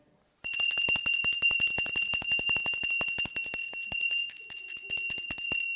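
A hand bell rings rapidly and continuously for several seconds, a bright metallic clanging close and loud, once used in a seminary hallway early in the morning.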